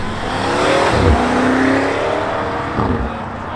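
A Mercedes G-Wagon pulls away from a Newport Beach café, its engine swelling loud and close before easing off as it leaves, with a brief second surge near the end.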